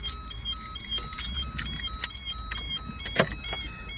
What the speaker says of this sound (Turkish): Araca binip çalıştırmak için kontağı açtığımızda